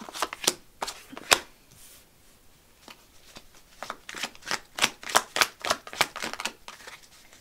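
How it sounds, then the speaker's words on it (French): Playing cards being drawn and shuffled in a tarot-style reading, a run of crisp riffling snaps and slides in irregular bursts, close and fairly quiet, with no talking. "Allez, on va tirer d'autres cartes là."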